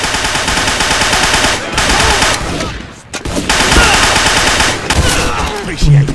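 Rapid automatic gunfire rattles in the game Vortex, loud bursts of shots broken by brief pauses, with a voice talking faintly underneath.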